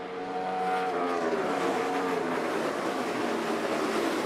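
NASCAR Cup Series race cars roar around the Dover track, a loud sustained engine drone with shifting pitch as the cars push off the final turn, steady and dense with no talk.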